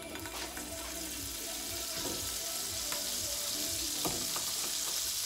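Butter sizzles in a pan ahead of a garlic butter sauce, giving a dense, even frying hiss throughout with faint clicks and scrapes underneath and no voices.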